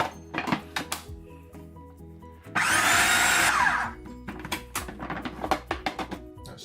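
A stand mixer whirs loudly for about a second, working butter and flour into pastry dough for a Bakewell tart, framed by clattering bowl and utensil knocks before and after.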